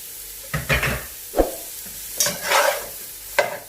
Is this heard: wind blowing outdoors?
no